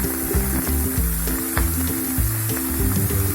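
Red amaranth greens tipped into a hot pan of oil with cumin, onion and green chillies, producing a continuous crackling sizzle with small wet pops, close by over a low steady hum, without talking.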